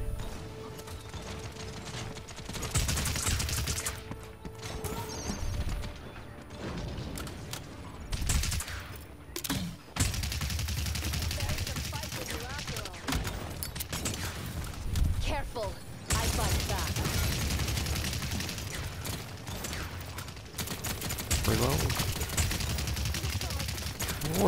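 Heavy cannon-style gunfire from the Paladins online match on Xbox One, a dense run of repeated bursts and mechanical clatter that stays loud and busy throughout, with a player talking over it.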